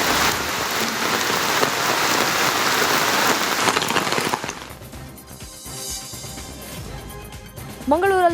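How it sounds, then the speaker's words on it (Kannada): Heavy rain pours down in Mangaluru as a loud, dense hiss for about four seconds, then gives way to quieter dripping and background sounds with a brief rising tone at the end. "ಮಂಗಳೂರಲ್ಲೂ ಮಳೆಯ ಆರ್ಭಟ ಜೋರಾಗಿದೆ."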